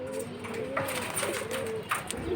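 High-flying pigeons coo in low repeated rolling calls, several overlapping, close by against a background of faint chatter and scattered noise.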